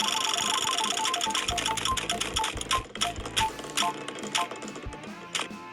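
A prize wheel spins with rapid, even clicks that slow and thin out into sparse ticks as it winds down, loud and close with no talking.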